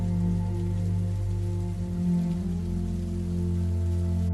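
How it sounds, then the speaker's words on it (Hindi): Steady, dense rainfall pours down continuously, a loud unbroken wash with a low rumbling undertone and no voices. "कई दिनों से गांव में लगातार तेज बारिश हो रही थी"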